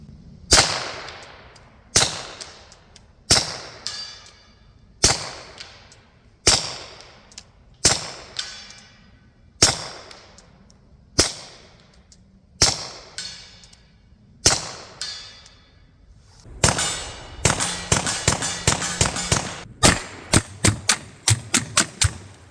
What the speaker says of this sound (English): let's take some shots at about 80 yards.